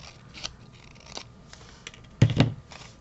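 Scissors snipping double-sided cardstock for a handmade card, a few faint, quiet cuts early on, then a sharper, louder pair of crisp snips near the end, with no talking.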